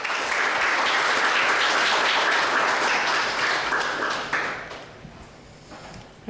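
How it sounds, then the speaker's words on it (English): An audience at a PyCon JP 2024 conference talk applauds to welcome the speaker, dense sustained clapping that fades out toward the end. "Please welcome our speaker with huge round of applause"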